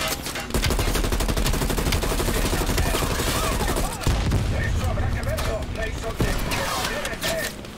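Dense, loud gunfire from the video game Call of Duty Cold War rattles almost without pause in rapid overlapping bursts, with brief dips in the volley.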